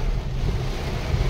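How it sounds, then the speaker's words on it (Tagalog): Wind beginning to blow outdoors, buffeting the microphone as a steady low roar and rush that fills the short moment without pause. "Simula ng hangin."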